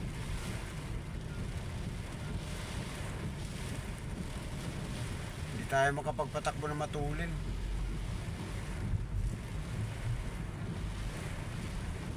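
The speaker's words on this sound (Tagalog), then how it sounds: "talagang yung hangin, itutumba ka ng hangin" Strong wind and rough waves pound around a boat in the rain, a continuous blustery roar with buffeting on the microphone, while someone speaks briefly partway through.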